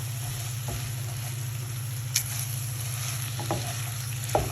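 Onion masala for a village-style prawn fry sizzles steadily in a pan, with a low constant frying hiss and a few soft scraping stirs of a spoon, heard close with no voices.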